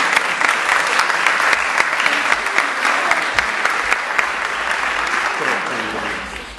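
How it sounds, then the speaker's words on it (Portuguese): Applause from a church congregation at a silver wedding anniversary ceremony, sustained and dense throughout, fading slightly toward the end. "Uma salva de palmas à pessoa."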